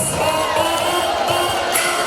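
A loud, steady roar of school carnival parade crowd noise fills the clip, dense clapping and cheering with occasional whoops rising above it.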